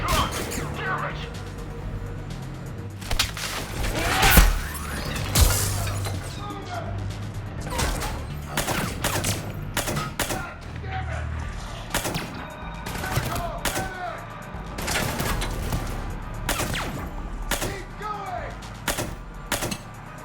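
Gunfire in the video game Mass Effect 3, repeated sharp shots and bursts with crashing impacts throughout a busy battle, fairly loud, with voices talking at times.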